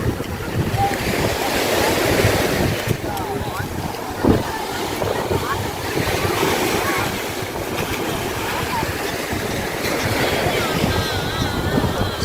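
Sea waves wash in steadily at a beach where people bathe in the surf, the rolling wash mixed with gusts of wind buffeting the microphone and distant crowd voices.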